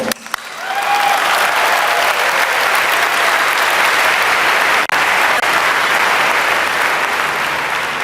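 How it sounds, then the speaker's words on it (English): Large crowd at a professional talk breaking into loud, sustained clapping that starts sharply and holds at a dense, even level for several seconds, with one brief dropout midway. "Let's clap it up for the 4 old people."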